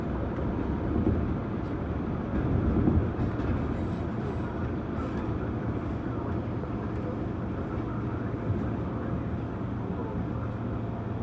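A KRL Commuterline electric train between Jatinegara and Bekasi picking up speed to about 80 km/h, a steady loud rumble and roar of wheels and motors inside the carriage, constant throughout.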